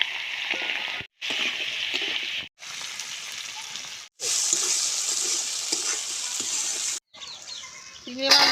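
Shrimp frying in hot oil in a village-style Bengali kitchen, giving a loud, steady sizzle in several long bursts separated by brief silent gaps.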